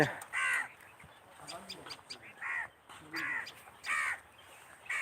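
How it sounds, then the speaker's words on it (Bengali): Harsh bird calls, caws repeated in bursts roughly every second, fairly close over a low background murmur, with no clear speech. "পাখির কিচিরমিচির শব্দ শোনা যাচ্ছে"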